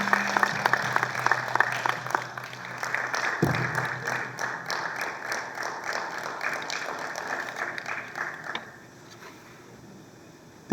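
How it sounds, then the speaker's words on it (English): Audience applauding loudly and continuously with dense clapping for about eight seconds, then fading to scattered claps and quiet. "can I have a please loud round of applause with all the energy"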